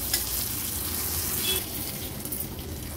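A slice of surmai kingfish fries in oil on a tawa with a loud, continuous sizzle and crackle, close and steady, easing slightly after the midpoint; no voices.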